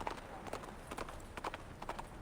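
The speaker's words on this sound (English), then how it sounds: "The communicator's noise startles the nibbling horse. It lifts its head and bolts into the distance." A startled horse in the video game Reverse: 1999 bolts away, its hoofbeats sounding as a run of soft, irregular clip-clops over a low ambient bed.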